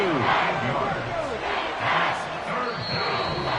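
An American football stadium crowd roars through a Texans game during a third-down play, a loud, steady wash of cheering that swells and fades, with a commentator's voice faintly over it.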